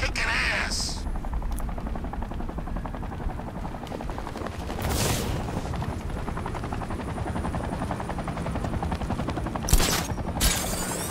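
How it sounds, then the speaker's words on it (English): Steady, loud rotor drone of a helicopter in a video game fills the scene, with a few sharp bursts breaking through near the start and end. "I hate that helicopter."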